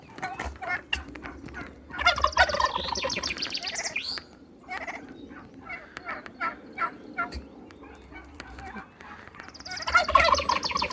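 Four turkeys gobbling in bursts, a loud close chorus at the start and again near the end, with clucks and farmyard noise in between.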